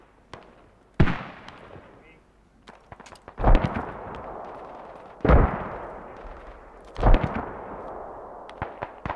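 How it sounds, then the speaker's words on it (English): Mortar rounds in Squad land at intervals: four loud, distinct blasts, each with a long rolling decay, plus scattered smaller pops between them. A voice briefly speaks. "There's mortars going off north of northeast of me."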